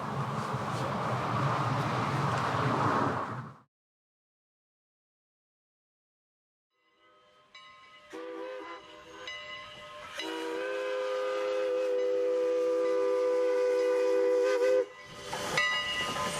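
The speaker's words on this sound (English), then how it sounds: "the train passing by used to whistle. It had a release steam" After a burst of noise and a silent gap, a steam train whistle sounds, rising into a long, loud sustained blast before cutting off.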